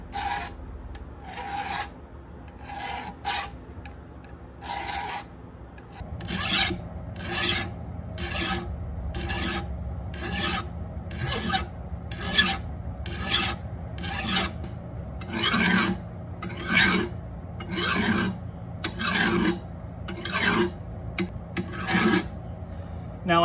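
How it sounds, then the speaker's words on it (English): Hand file rasping across a tie rod cylinder clevis during a repair, a steady run of about twenty short regular strokes close up, quieter at first then louder and firmer, with no voices. "I'm just going to take my file and smooth this thing out as best I can"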